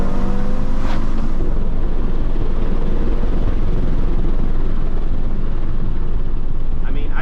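A 600HP Audi TTRS running on E85 drives around a bend at night with a loud, constant low engine rumble and heavy road noise.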